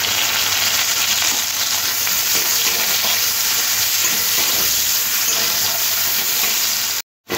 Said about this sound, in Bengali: ফোড়নে দেব কালো জিরে, দিয়ে দেবো কেটে রাখা একটা পেঁয়াজ